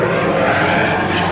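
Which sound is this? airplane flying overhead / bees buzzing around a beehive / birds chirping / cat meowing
airplane flying overhead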